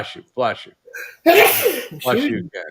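A single sharp sneeze bursts out mid-clip, loud and close, during a golf outing on a par-5 hole, with speech just before and after it.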